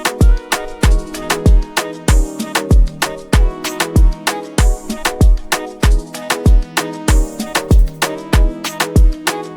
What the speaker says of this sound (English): this little hi-hat loop I got out of this pop drum kit, and it went well with the shaker